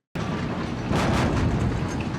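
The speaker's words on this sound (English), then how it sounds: "What is that thudding?" Heavy, muffled thudding from overhead on a barn roof, a dense low rumble that swells briefly and keeps pounding with no voices.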